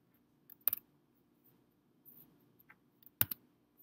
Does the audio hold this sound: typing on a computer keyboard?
yes